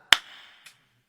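Two sharp hand claps, the first loud with a short ringing tail and the second softer about half a second later, from the crowd clapping along at a live music show in a book and music shop in Hong Kong.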